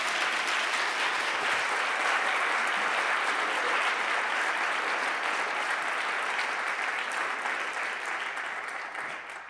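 Steady applause from a live audience at a CreativeMornings New York talk, even and continuous for the whole stretch before easing off at the end.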